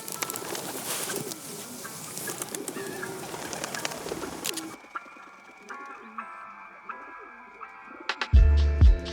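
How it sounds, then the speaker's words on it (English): Pigeons coo softly from nearby, low throaty calls repeating through a background of city noise that suddenly drops away, ending with a loud handling bump. "Hey, pigeons."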